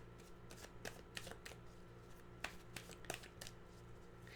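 Tarot cards shuffled by hand, giving a steady run of crisp riffling flutters and soft snaps that repeat irregularly, close up and fairly quiet, with no talking.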